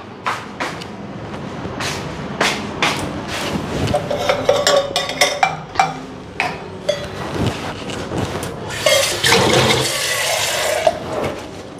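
Water runs and splashes over goat meat being rinsed in a home kitchen, a loud, gushing stream that surges toward the end, with scattered clinks and knocks throughout.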